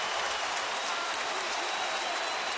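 A baseball stadium crowd on its feet at a Rangers–Astros game cheers and applauds in a dense, steady roar of distant claps and voices that fills the whole moment without a break.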